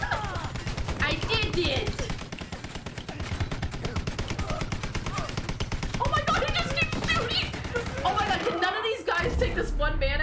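Rapid automatic gunfire in the video game Beyond: Two Souls, a steady rattling stream of shots running through the whole stretch, with people talking over it.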